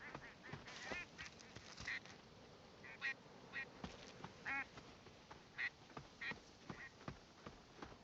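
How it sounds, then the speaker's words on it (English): Mallard ducks quacking in a video game, a steady series of distinct quacks at varied intervals over soft background ambience, moderately faint and with no talk. "Mallards."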